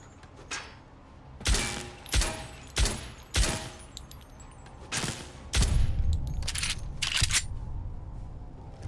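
Gunfire striking a player character in Fallout: New Vegas on PC: a run of loud, sharp impact bursts in irregular succession, giving way to a dense, sustained crackle of hits toward the end.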